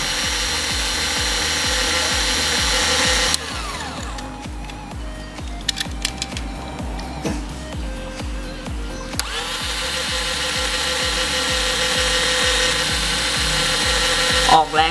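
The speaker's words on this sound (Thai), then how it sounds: "กดสว่านนิดหนึ่งนะครับ" An electric drill with a small bit whines and grinds as it bores into a die-cast metal toy car body, loud and continuous, easing off briefly midway before spinning back up.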